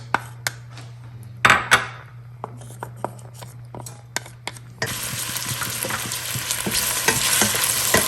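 A medium onion fries in a little cooking oil for a kebab curry: sparse clinks and stirring taps at first, then a loud, steady hiss of sizzling takes over. No voices are heard.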